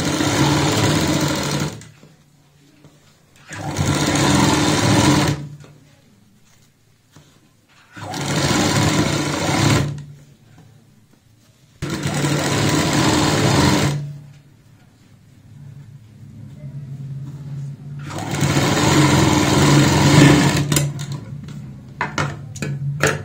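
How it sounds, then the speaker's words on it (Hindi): A sewing machine stitches piping around a kurti neckline in five loud, close bursts of steady whirring, each lasting a few seconds, separated by quiet pauses. No talk. "अब हम पाइपिंग के साथ साथ यहाँ पे सिलाई लगा लेंगे"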